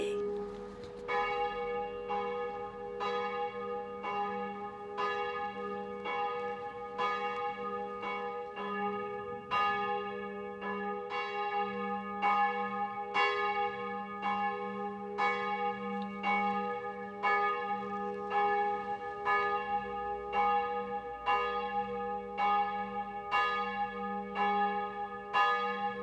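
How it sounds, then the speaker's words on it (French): Church bells ring in repeated, resonant strikes with rich overtones. The strikes keep a steady, continuous rhythm over a low background hum, with no speech. "On attend les cloches."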